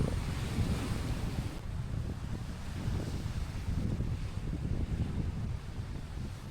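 Rough sea waves surging onto a foamy shore under strong wind, a continuous loud roar with heavy wind buffeting the microphone throughout, no voices.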